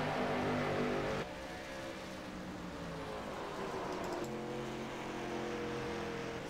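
Late model race cars at a racing event, engines droning steadily from a distance with a continuous mixed roar of several cars, one tone shifting as cars pass.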